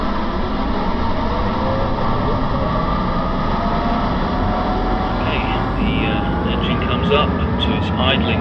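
Dassault Mirage IIIO jet engine in a flight simulator game winding down toward idle, a loud continuous roar with sliding whine tones, steady to the end, with a voice talking over it.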